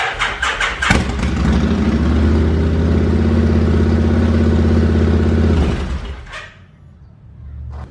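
Car engine cranking and firing up after turbocharger work, a few seconds of cranking clicks followed by a steady loud idle that cuts off near the end, close by.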